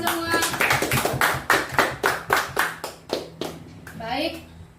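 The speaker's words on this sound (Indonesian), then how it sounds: "Tepuk tangan dulu buat kita semua." A group of teachers at an end-of-session gathering claps in a rhythmic, even series of loud claps, slowing toward the end, with a voice and chatter mixed in.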